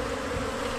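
Wild forest bees swarm around a freshly harvested honeycomb and wax pile, giving a dense, steady, close buzzing drone that fills the whole moment without any voices.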